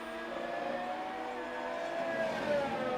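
Race car engine in a racing video game at the Spanish Grand Prix, a steady high-pitched whine with shifting harmonic pitches as the car pushes into a corner on soft tyres, continuous and fairly loud throughout.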